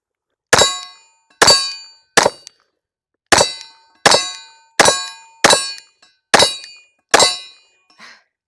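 Glock 30S .45 pistol fired at a steel target outdoors: nine sharp shots, each followed by a bright ringing clang that decays quickly, spaced roughly a second apart with one longer pause.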